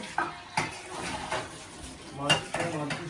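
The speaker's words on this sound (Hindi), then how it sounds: "मैं भी बर्तन धोती हूँ" Dishes, pots, pans and cutlery are washed by hand in a home kitchen, producing a series of close clinks, clatters and scrapes with irregular sharp knocks over running water and handling noise.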